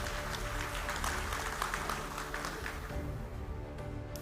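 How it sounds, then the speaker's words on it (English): Audience applause for SMTC Global at the SMIC2023 maritime conference, a steady wash of many hands clapping in a large hall, moderately distant, thinning slightly toward the end. "Let's give a round of applause for the SMTC Global."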